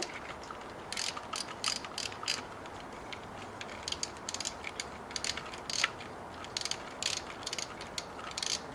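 Repeated ratchet clicks from a socket wrench loosening a bracket bolt on a 2006 Toyota Corolla's engine, in short irregular bursts close by over a steady low background hiss.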